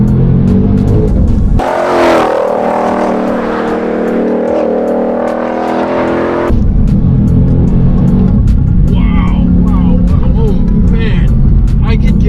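A 2020 Shelby GT500 engine roars loudly, revving and accelerating hard for several seconds after a shift into second gear, then dropping into a steady, rumbling drive with faint voices underneath.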